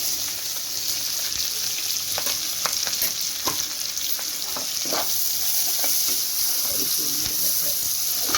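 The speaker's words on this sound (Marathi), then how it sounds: "कांदा परतून घेणार आहे।" Chopped onion and halved green chilies sautéing in a pan for egg biryani, a steady bright sizzle with scattered clicks and scrapes of stirring, fairly close and even in level.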